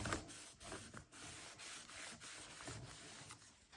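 A cloth rubs over glued paper in an envelope journal with soft, repeated scrubbing strokes, close and quiet, steady rhythmic friction with no talking.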